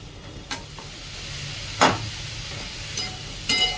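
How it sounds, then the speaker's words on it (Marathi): Half a spoon of turmeric with coriander and cumin powder sautéing in oil for a dry green cabbage sabzi, a soft low sizzle broken by a few sharp scrapes of a spoon against the pan. "तर त्या अर्धा चमचा हळद तेलामध्ये छान अशी परतून घ्यायची।"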